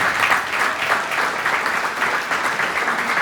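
Dense applause from a crowd at a political town hall at Iowa Wesleyan University, steady and loud throughout with no speech over it.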